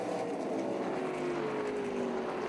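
Engine of an off-road race truck straining for traction during a Sioux Chief PowerPEX 200 race, a steady droning roar with a slowly falling pitch, heard from a distance without a break.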